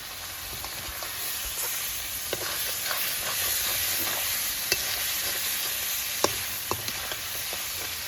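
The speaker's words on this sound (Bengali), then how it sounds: "এইভাবে ভালো করে মাংসটাকে কষিয়ে নিতে হবে" Goat meat sizzling with turmeric and dried chilli as it is stir-fried in a pan, a steady close frying hiss broken by scattered clinks and scrapes of a spatula, with no talk.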